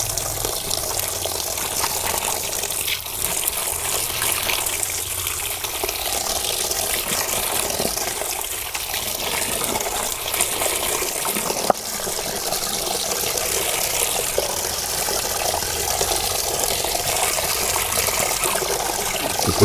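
Water runs steadily from a tap over cabbage being washed, a continuous loud splashing flow with small shifts in intensity throughout and no pauses.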